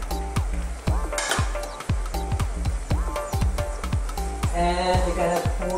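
Pork and white squash (upo) stirred in a pan, repeated scraping and clanking of a utensil against the pan in an uneven rhythm over a soft sizzle, close by, no voices.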